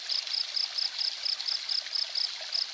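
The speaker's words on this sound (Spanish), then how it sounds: "la misma turbinita de la piscina la pusimos para lo que es la cascada" A backyard waterfall fed by a pool pump gives a steady, close rush of falling water, with a faint regular high ticking pulse running underneath.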